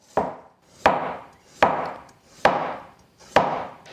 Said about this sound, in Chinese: 土豆去皮洗净后，把它切成厚片。